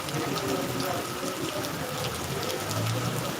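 Steady rain falling outdoors, a dense even hiss of drops pattering on surfaces, moderately loud and continuous without any talk.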